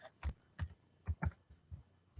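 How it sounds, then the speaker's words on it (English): Quiet, irregular keystrokes tap on a computer keyboard, about eight clicks in a slow uneven rhythm, close by. "I'm just typing stuff in case people missed which one."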